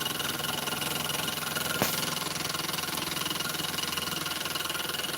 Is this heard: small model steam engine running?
yes